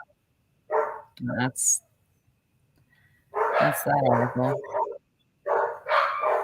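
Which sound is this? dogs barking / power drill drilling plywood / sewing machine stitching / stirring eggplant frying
dogs barking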